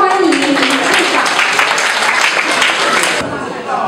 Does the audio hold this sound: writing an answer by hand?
no